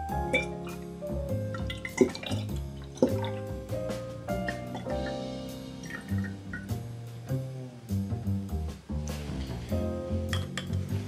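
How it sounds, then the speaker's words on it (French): Simple syrup poured into a homemade vanilla liqueur, a run of close, quiet drips, trickles and small glassy clinks spread unevenly across the stretch, with no talking. "on a donc les 100 centilitres de sirop simple qu'on va venir donc ajouter à notre liqueur"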